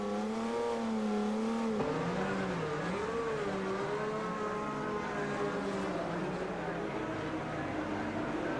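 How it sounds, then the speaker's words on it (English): Several 1982 Formula One turbo and naturally aspirated race car engines at a Grand Prix, running together in a steady, sustained drone with shifting engine-note harmonics as they rev for the warm-up lap. "So the engines came to life"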